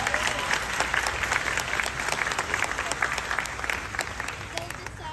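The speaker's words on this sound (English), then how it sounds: "Oh, they clap for that." An audience at a Smallville fan convention panel with John Schneider and Tom Welling breaks into loud, sustained applause, a dense wash of clapping from a large crowd that fills the room and fades slightly toward the end.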